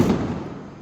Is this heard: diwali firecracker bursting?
yes